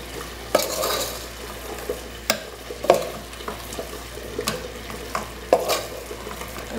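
Ground beef sauce being stirred in a pan, with a steady sizzle and repeated scraping clicks of a utensil against the pan bottom, close and clear with no speech.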